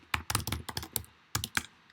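Keystrokes on a computer keyboard typing a search into Google, a quick burst of sharp clicks followed by a short pause and two more taps, close and clear with no talking.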